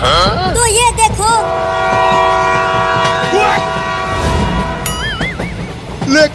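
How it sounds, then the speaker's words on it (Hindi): A cartoon train hurtles away, its whistle wailing in rising, wavering blasts over a steady, loud rumble of rolling wheels, with the horn sounding again near the end. "वो दोनों तो ट्रेन को लेकर भागने लगे"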